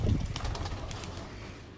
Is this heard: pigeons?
yes